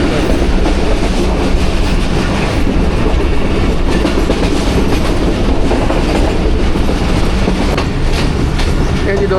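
The 40 Down Jaffar Express pulls into Gujar Khan railway station with a loud, continuous rumble of wagons and rhythmic clickety-clack of wheels on the rails, heard close and alone.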